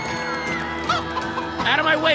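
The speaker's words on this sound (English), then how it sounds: "Out of my way, chickens!" Chickens cluck in the Minecraft Story Mode video game, several short squawks rising over game music and effects, with a voice talking over them.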